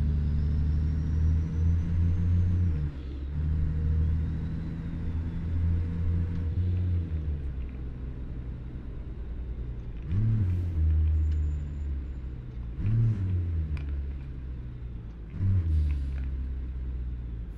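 A Mack Cruiseliner truck engine with a modified ZeeMod sound drones low and steady in American Truck Simulator, a continuous loud rumble with a few brief pitch dips as gears shift.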